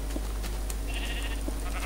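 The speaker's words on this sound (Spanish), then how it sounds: "ovejas comiendo aquí" Sheep in the Minecraft video game bleat in a wavering tone against a loud, constant low rumble and scattered clicks, mid-distance, with no voices.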